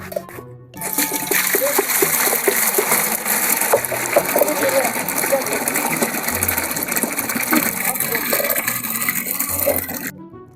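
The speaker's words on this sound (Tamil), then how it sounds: "தண்ணி ஊற்றிடலாமா?" Water pours steadily into a cooking pot for boiling noodles, a continuous loud splashing rush that begins after a brief pause and keeps going almost to the end.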